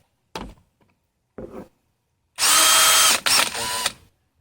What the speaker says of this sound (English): Drill with the wire wheel.